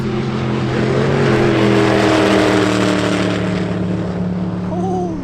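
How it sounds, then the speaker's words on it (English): A Koenigsegg Regera hypercar roars past close by, a loud sustained engine howl with rising and falling pitch, no voices. "The Regera just passed the door"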